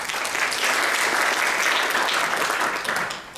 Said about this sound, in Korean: 큰 박수로 강의 부탁드리겠습니다.